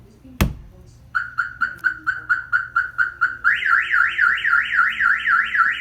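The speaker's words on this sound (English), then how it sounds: "There's the siren, there's the lights." A Viper aftermarket alarm on a 2018 Hyundai Santa Fe Sport starts with a sharp click, then a loud, even run of repeated chirps gives way to a rising and falling warbling siren, close by with no talk over it.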